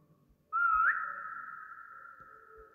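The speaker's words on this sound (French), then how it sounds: "si je siffle, les épées vont m'entendre" A single sustained whistle, one clear steady tone held for about two seconds with a slight wobble at the start, inside the Roblox SCP-3008 game, with faint background noise.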